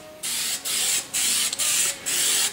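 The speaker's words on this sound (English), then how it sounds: "he's first going to apply spray glue on the rear bulge piece, the rear center bulkhead piece" Contact spray glue hissing from a can onto a Porsche 911 rear center bulkhead carpet piece, five steady bursts of spray separated by short pauses, close and clear.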